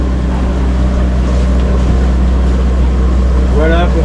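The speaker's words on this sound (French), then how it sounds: "Alors nous sommes au moteur." Sailboat motoring under engine power on a foggy, windless passage, a steady low engine drone with water rushing along the hull and a brief whistle-like tone near the end.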